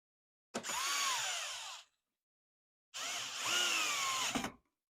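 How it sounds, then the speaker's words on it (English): A screw gun fitted with an 11/32 socket drives a screw into a polycarbonate TrueTrac RGS dust shroud, in two close, whirring bursts of about a second each with rising and falling motor pitch. "I use my screw gun to hold it"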